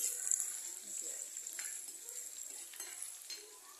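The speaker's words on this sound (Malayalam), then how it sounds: "ഉള്ളി ഇട്ട് കൊടുത്ത് ഇതൊന്ന് നന്നായിട്ട് വഴണ്ട് വരട്ടെ" Crushed onions sauté in a pan for a mackerel curry, giving a soft, steady sizzle with light stirring scrapes. The sound is fairly quiet and close, with no clear talk.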